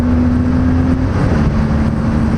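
A Honda CB250 motorcycle engine with a 5-speed gearbox pulling under power, a steady loud drone with a sustained tone that shifts slightly as it accelerates, no voices.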